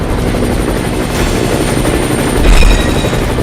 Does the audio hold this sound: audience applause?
no